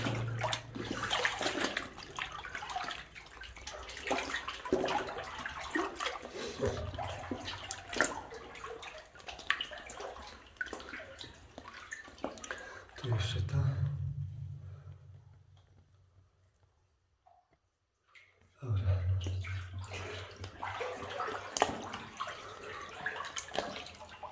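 Water sloshes and splashes in steady rhythm as someone wades knee-deep through a flooded mine adit, pausing briefly into near silence before the splashing resumes.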